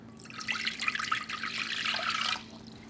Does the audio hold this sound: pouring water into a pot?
yes